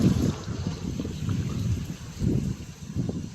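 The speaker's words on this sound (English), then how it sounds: "you can probably hear the wind slowly picking up now" Wind from Hurricane Helene in Athens, Georgia builds in low, rumbling gusts that buffet the microphone, rising and falling in uneven surges at moderate loudness.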